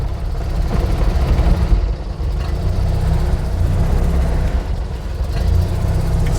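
A Perodua Kenari car engine revs during a hill start, a steady, close, low rumble that rises slightly in places while the brake is released.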